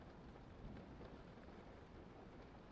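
Rain falls steadily outside, a faint, even hiss with no voices or other sounds over it.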